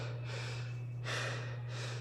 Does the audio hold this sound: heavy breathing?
yes